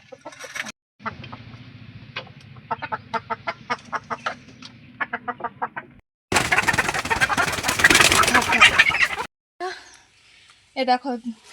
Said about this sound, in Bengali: এই এক হাতে দশটা মুরগি ধরেছি